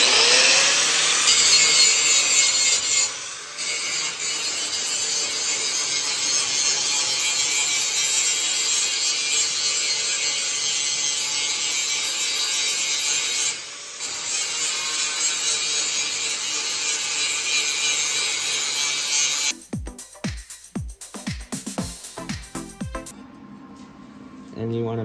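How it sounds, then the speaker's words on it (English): A power tool scours rust off metal in preparation for welding, giving a loud, steady abrasive grinding that breaks off twice briefly, then gives way to a few clicks and knocks near the end. "you want to prep your metal and try to remove as much rust as you can."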